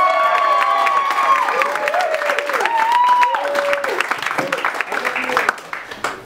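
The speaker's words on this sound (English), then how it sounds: "So, what a huge round of applause." An audience applauds and cheers loudly and steadily for a comedian taking the stage, with whoops and voices rising over the clapping and a voice speaking as it tapers off.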